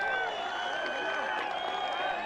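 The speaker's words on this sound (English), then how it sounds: "Loudest I've heard the crowd go today." A rugby sevens crowd roars loudly throughout, a dense sustained wall of cheering and applause from the stands with no break.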